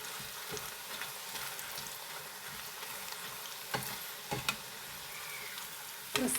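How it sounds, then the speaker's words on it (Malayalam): Pieces of bitter gourd frying crisp in oil produce a soft, even bubbling sizzle, with a handful of light clicks and scrapes near the end as they are stirred or lifted. "ഒരു പത്ത് മിനിറ്റിന് ശേഷം നമ്മുടെ കയ്പ്പൊക്കെ ഇവിടെ ക്രിസ്പിയായി ഫ്രൈ ആയി വന്നിട്ടുണ്ട്"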